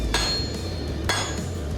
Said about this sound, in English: My secret weapon for moving this metal, an 8-pound hammer.